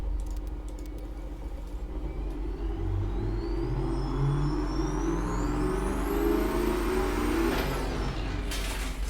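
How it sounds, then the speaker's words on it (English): A simulated car engine in the Automation car-design game revs up on a dyno, its pitch climbing steadily and then cutting off, a loud, continuous drone heard alone. "Run the dyno and see what happens"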